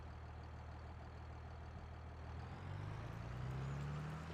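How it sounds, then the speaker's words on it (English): A tractor engine idles in the Farming Simulator video game, a steady low mechanical rumble that holds throughout and gains a slightly rising hum toward the end, with no voices over it. "I do like the tractor sounds."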